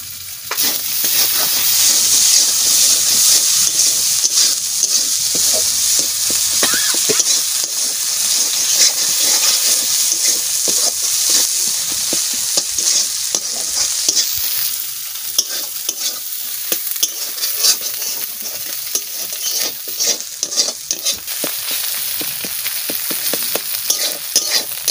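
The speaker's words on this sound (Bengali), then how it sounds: "ভাজা হয়ে গেছে, তেলও ছেড়ে দিয়েছে মশলার থেকে" Salt and turmeric fry in oil for chicken posto, a loud steady sizzle with frequent scraping stirs against the pan that carry on throughout, and no voices.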